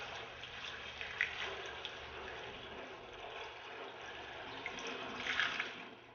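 Water poured into a vessel for mixing acid stain, a soft continuous trickle and gush at low level, swelling slightly near the end.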